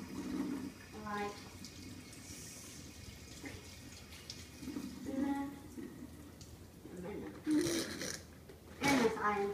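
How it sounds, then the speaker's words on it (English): Tap water running into a sink as hands are washed with soap, a soft trickle that rises and falls in short bursts, while someone talks over it. "Washing our hands and get in the soap and wash them."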